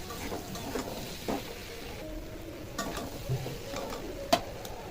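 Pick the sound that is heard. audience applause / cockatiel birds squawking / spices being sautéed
spices being sautéed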